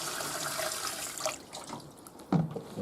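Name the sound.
bowl of water tipped into a washing machine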